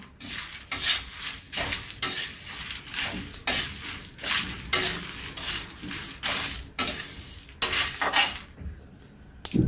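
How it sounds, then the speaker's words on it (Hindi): Roasted makhana (fox nuts) are tossed into a dry pan for an oil-free namkeen with roasted chana, bringing repeated rattling, scraping bursts of spoon against metal at an uneven rhythm, close and fairly loud. "अब मखाने को डाल दे रहे हैं इसमें"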